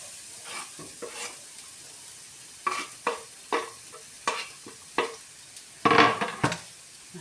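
Chopped onion frying in a long-handled pan, with a steady sizzle broken by repeated sharp scrapes of stirring that come roughly every second, close and fairly loud, and no one speaking.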